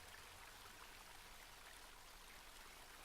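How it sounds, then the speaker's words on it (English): A cold river flowing in a video game, heard as a faint, steady broadband rush of moving water with no other sounds over it. "The path ended in a cold looking river."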